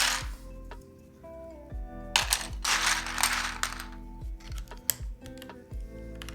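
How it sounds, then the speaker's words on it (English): Custom Cloudline mechanical keyboard with an O-ring mount being typed on, a fairly quiet run of close, irregular clacky keystrokes with some bursts of rapid presses, no talking. "The O-ring mount's a little bit quieter for this guy."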